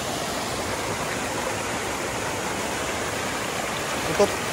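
A constant rushing of water flowing under rocks near a waterfall fills the scene, a dense steady hiss like a stream running over rocks, close and unbroken.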